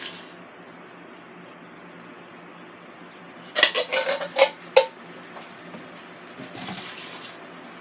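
Canned corn and its liquid slosh into a cooking pot in a short burst of splashy pours, close and clear, followed by a softer trickle after a quiet background hum.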